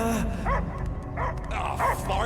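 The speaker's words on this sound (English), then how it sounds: "I hear only barking." A dog in the Guardians of the Galaxy video game barks in a few short, repeated bursts, with whimpering yips over a dense, rumbling game soundscape.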